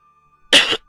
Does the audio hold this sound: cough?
yes